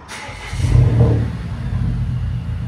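Exhaust of a 2019 Volvo S60 T6 with a 2.0L turbo engine, running with the muffler deleted, gives a low, loud rumble that swells in one short rev before settling into a steady idle drone.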